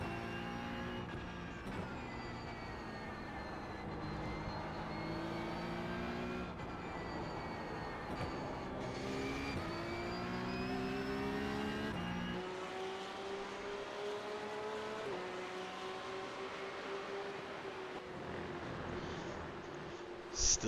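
Porsche 911 Cup (992.2) race car engine lapping Hockenheim in a racing video game, a loud, steady high-revving howl that climbs and drops through gear shifts, with no talk over it.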